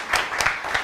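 An audience at a Guinean community gathering in New York claps in a brief burst, with a few louder claps standing out over a soft, even patter.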